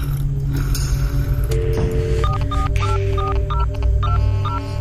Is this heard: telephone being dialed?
yes